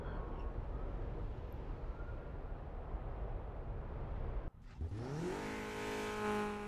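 A tuned car engine in the Need for Speed racing game, first a steady broadband engine and road roar, then after a brief cut a loud, close rev with rising harmonic tones as the engine climbs.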